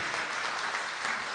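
Audience applause at a college event with a poet performing, a steady dense wash of clapping throughout, loud and close with no talk over it.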